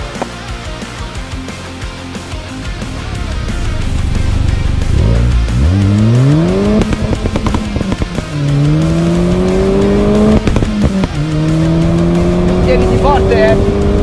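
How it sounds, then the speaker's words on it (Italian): A very light Fiat Cinquecento with a swapped 1.4 T-Jet engine accelerates hard, its revs climbing through several gears with shifts between, loud and close from inside, while someone talks over it. "Parliamo di una macchina leggerissima che ha un motore swappato."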